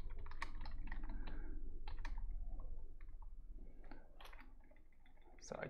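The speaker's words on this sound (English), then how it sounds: "So I could just type two asterisks there." Quick bursts of keystrokes on a computer keyboard typing asterisks, crisp close clicks in short irregular clusters over a low steady hum.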